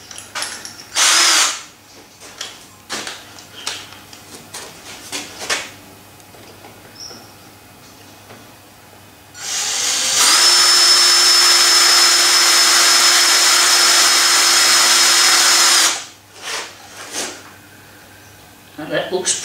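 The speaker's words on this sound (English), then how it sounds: "I'm going to take the big drill bit out and go for a small one." A power drill fitted with a small bit bores into metal during a metal shaper repair, starting with short bursts and then a long, loud, steady whine lasting several seconds before it stops.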